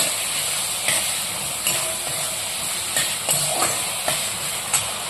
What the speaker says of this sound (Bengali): আমার যে টমেটো স্লাইসগুলো ছিল সেগুলো অ্যাড করে দিলাম। এবার আমি এটা ভালো করে একটু নেড়ে নেব।